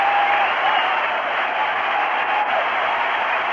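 A packed crowd of about 50,000 at a 1982 Mets home game against the Pirates, with the Mets leading 7-4, gives off a steady, even roar of cheering and clapping that carries from a distance.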